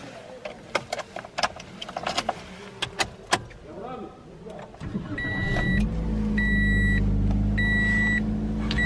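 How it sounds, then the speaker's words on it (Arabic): A small Toyota car sits still as keys jingle and interior clicks and dashboard chimes sound, then the engine cranks and settles into a steady, close idle while someone talks throughout. "خلينا نشغل السيارة."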